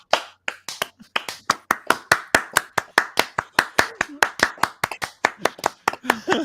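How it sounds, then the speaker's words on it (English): An audience claps together in a steady run of sharp, evenly spaced hand claps, loud and close, lasting several seconds. "We need some applause for that right now."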